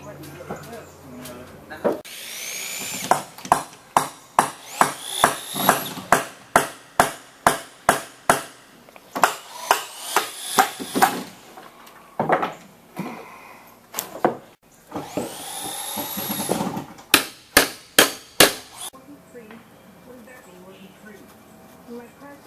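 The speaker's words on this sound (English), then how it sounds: "I just pulled out 2 nails there" Nails are pried and hammered out of a wooden post on a deck being rebuilt, producing rapid runs of sharp knocks and squealing metal-on-wood creaks in several bursts, loud and close.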